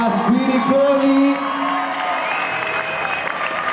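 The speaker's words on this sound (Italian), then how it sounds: "Io voglio un grandissimo applauso per Andrea Rotundo e Nicola Spiriconi." A crowd at a dance competition cheers and whoops loudly with applause beneath, voices yelling close and bright before the noise settles into a steadier roar.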